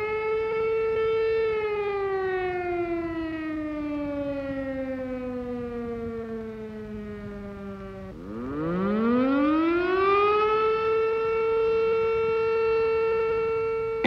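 A Cold War civil defense air raid siren in Westphalia wails loud and alone, holding a tone, sliding slowly down, then sweeping sharply back up and holding high again.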